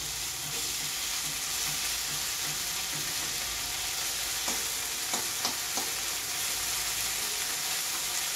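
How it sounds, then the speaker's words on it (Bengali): Crab chorchori sizzling steadily in a pan, a continuous frying hiss with a few sharp stirring clinks of a utensil midway, no talking. "এইভাবে কিছুক্ষণ ভাজবো।"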